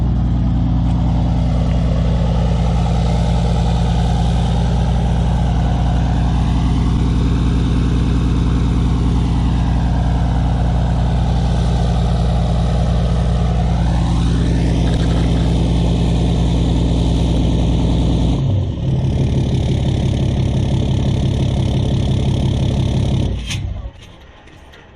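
A 2016 Cummins 6.7 diesel pickup with a 5-inch straight pipe idles loud and close, its deep rumbling drone rising and falling as the revs climb, then dropping sharply near the end as it cuts off.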